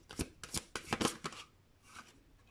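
Tarot cards are shuffled by hand in a run of quick crisp riffling bursts, then a softer card slide, all close and fairly quiet.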